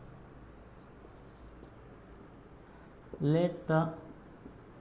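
Pen scratching softly on paper while a quadratic equation is written out, a quiet continuous scribble under a brief spoken phrase from a man.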